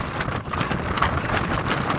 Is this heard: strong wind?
yes